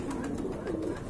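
A pair of fancy pigeons coos softly nearby, with low warbling phrases over a steady background hum and no talking.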